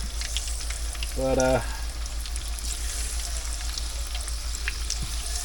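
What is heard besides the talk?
jicama fries sizzling in frying oil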